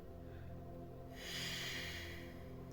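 A slow, steady exhale through one nostril during a breathing exercise, a soft airy rush that swells midway and holds, close and fairly quiet with no talking.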